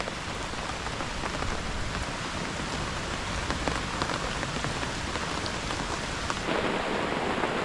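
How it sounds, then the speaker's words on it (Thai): Steady rain pours outdoors in a forest, a dense, even hiss of drops on leaves and ground that runs without a break and swells slightly heavier toward the end. "แล้วฝนตกนี่"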